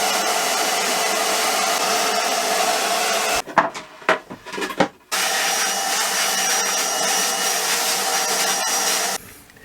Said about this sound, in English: this Hoover is 1100 watts, so it's not particularly oversized, and we can actually run it off our inverter.